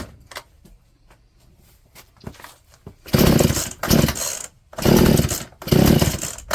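Poulan chainsaw with a replacement carburetor, its engine revved hard in three or four loud full-throttle bursts separated by brief drops, after a quiet stretch of faint clicks and handling noises.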